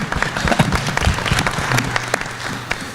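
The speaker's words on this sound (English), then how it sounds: "I think that deserves a round of applause." An audience at an academic panel discussion breaks into steady, dense applause that holds at an even level throughout, close and full, with no speech over it.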